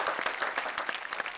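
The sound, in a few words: audience applause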